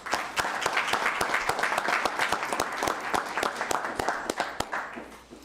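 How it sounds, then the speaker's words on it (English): Applause from the audience at a city council meeting for a departing member named Lonnie, a sustained round of clapping from a modest crowd with sharp individual claps standing out, nearby and fairly loud. "So if I can get a round of applause for Lonnie"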